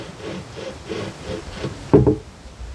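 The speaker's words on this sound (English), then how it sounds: "now I'm cutting the silicone in between the panels" A string saws back and forth through the silicone seam between broken aquarium glass panels, making a rhythmic series of close, dry rubbing strokes that ends in a sharper knock.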